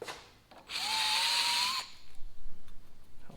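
A power tool chamfers a brass well check valve, giving one close, loud whining burst of about a second that rises slightly in pitch before cutting off, followed by quieter handling noises.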